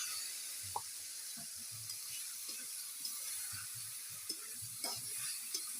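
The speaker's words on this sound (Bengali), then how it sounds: "সেই ইঁচোটা এবার দিয়ে দেবো দিয়ে ভালো করে নেড়ে নেব" Boiled green jackfruit stirred in a pan with a splash of water, a steady frying hiss underneath soft, irregular scraping strokes of a utensil.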